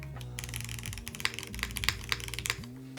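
Keys clack in rapid, uneven bursts on a Womier SK71 Pro aluminum-cased keyboard fitted with foam, giving close, crisp typing with a musical hum underneath.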